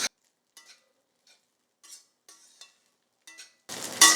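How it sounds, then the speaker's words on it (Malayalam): Spoon scraping and stirring garlic rice in a pan, several soft, brief scrapes spaced through quiet, then a louder, denser rustle at the end. "എല്ലായിട്ടൊന്ന് ഇളക്കിയെടുക്കാം."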